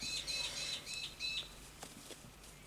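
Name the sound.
birds chirping outside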